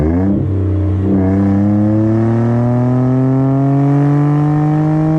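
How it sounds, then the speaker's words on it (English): The 170-horsepower V6 of a 2002 Mercury Cougar revs up close and loud. Its engine note climbs smoothly and steadily in pitch after a couple of quick blips at the start. "I love the sounds of V6s."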